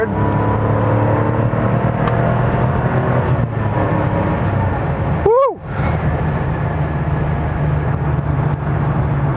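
A 1989 Porsche 911 Carrera's engine drones steadily from inside the car during a test drive, with a quick rev sweep at a gear change midway. A passenger whoops once.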